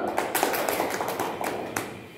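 Classroom applause in a microteaching economics lesson, a short burst of scattered hand claps and taps from a group of students, fairly close and steady for about two seconds.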